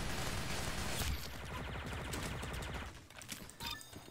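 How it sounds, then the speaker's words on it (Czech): Rapid bursts of gunfire crackle in Roblox Arsenal, a dense fusillade of overlapping shots that thins into scattered pops toward the end, fairly quiet overall. "Tady se nějak střílí"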